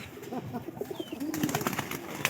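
Pigeons coo softly in a short, faint burst of low, throaty calls, with no talk.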